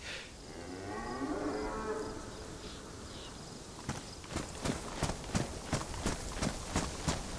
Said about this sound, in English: Well, there's a cow.